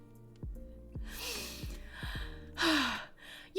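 A sharp gasp of breath from a woman reacting to a description of wet cupping, with a short breathy burst near the end, heard alone against a quiet room.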